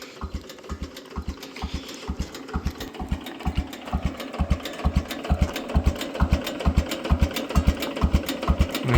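An old, rare tractor left parked for years runs slowly, its engine giving a steady, evenly spaced chuffing beat at close range, with no talk over it.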